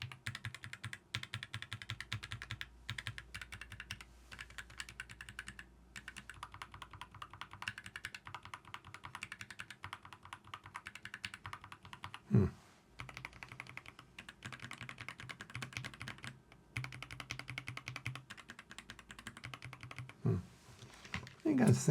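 Typing on a Keychron K2 HE keyboard, with close, steady clusters of crisp keystrokes and a few sharper isolated key presses, heard alone.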